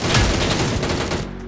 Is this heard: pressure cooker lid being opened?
no